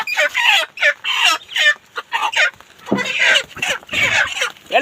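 A crowd of chickens loaded in a vehicle clucks and squawks in dense, overlapping bursts, close and fairly loud, with brief gaps between calls.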